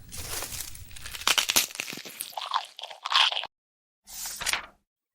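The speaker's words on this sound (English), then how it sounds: "chewing noisily with her mouth open so you could see everything inside" Noisy open-mouthed chewing in a cartoon about table manners: wet crunching and smacking bites in quick bursts, close and fairly loud, stopping briefly before one last chomp.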